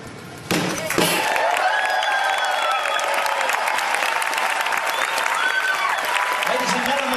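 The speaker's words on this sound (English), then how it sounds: "it is tradition that as the bottle breaks, the crowd goes wild." A sharp crack as a bottle breaks at the Carnival Dream cruise ship naming ceremony in New York, followed at once by a large outdoor crowd cheering and applauding loudly and steadily.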